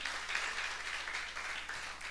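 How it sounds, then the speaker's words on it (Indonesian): A church congregation applauding at a sermon service, a brief steady wash of many hands clapping at moderate distance, with no break across two seconds. "Tepuk tangan yang meriah untuk kemuliaan nama Tuhan."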